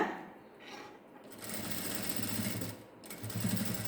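A sewing machine stitches a design with white thread, its motor buzzing steadily and close for a few seconds after brief pauses and handling at the start.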